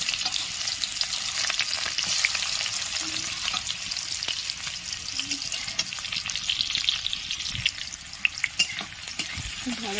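Chopped onion with whole cumin sizzles and crackles steadily in a hot pan, a dense close frying hiss with occasional soft stirring scrapes and no talking.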